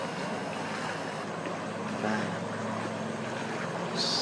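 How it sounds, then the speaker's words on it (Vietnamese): Waves from a passing motorboat lap steadily against a riverbank, a continuous washing and splashing that stays fairly loud throughout, with a slightly stronger surge near the end. "Sóng vỗ bờ sau khi mà cái cano nó đi qua"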